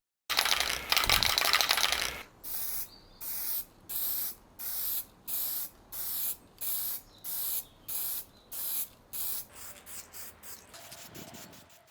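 A spray can lays down a thin first coat of primer, opening with one long hiss and then a regular series of about a dozen short, even bursts close by.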